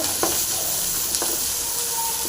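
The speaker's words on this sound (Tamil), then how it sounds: "நல்லா ஃப்ரை பண்ணலாங்க" Large onions with dried chillies and cumin sizzle steadily in a hot pan while being made into a tomato chutney. A few light scrapes of a stirring spoon sound close by, with no talking.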